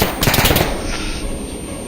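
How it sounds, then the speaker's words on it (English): Enemy gunfire in the military shooter Arma 3: a burst of rapid automatic shots rattles loudly through the first half second, then fades into a lingering rumble and hiss. "Gotta get out of the line of enemy fire though"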